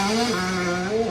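Two-stroke 125 motocross dirt bike engine being ridden hard, a buzzy high-pitched whine that rises and dips with the throttle, steady and fairly loud.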